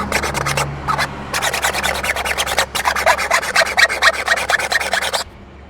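A screwdriver rasps steadily in repeated quick strokes as it widens a small hole. The scraping is close and loud, with only a few brief pauses.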